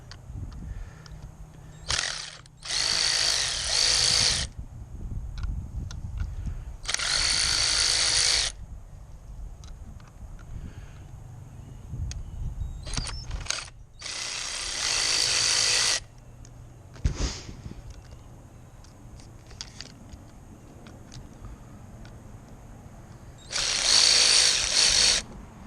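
A power drill drives T30 Torx screws on car door covers in five separate bursts of high whine, each a second or two long, with quieter handling and clicks in between, close to the recorder.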